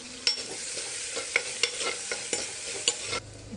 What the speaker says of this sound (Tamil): கட் பண்ணி வச்சுருக்கிற சின்ன வெங்காயம், கருவேப்பிலை, காஞ்ச மிளகாய் சேர்த்துட்டு வதக்கி விட்டுக்கலாம்.